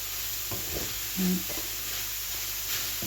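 Cabbage frying in a pan while being stirred, a steady close sizzle with a few scraping stirs and clunks of the utensil against the pan.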